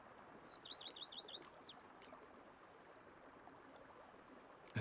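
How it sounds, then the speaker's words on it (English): Birdsong in The Witcher 3: Blood and Wine: a quick run of faint, high chirps and tweets in the first two seconds, then a quiet, steady ambient hush with no voices. "bees buzzing, birds chirping"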